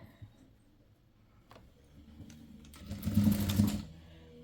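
A sewing machine stitches a dart on the back of a blouse, with a short steady run of needle clatter that swells louder toward the end and then stops, after a few quieter clicks and handling sounds.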